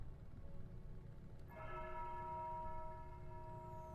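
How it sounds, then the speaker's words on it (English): A church bell tolls once in the video game Foolish Mortals, a clear sustained metallic ring with long humming overtones that linger and slowly fade over a low ambient rumble. "The tolling of the bell."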